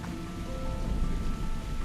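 Steady heavy rain from a storm in the video game Slime Rancher 2 pours down with a low rumble of thunder underneath, a dense continuous hiss without any voices.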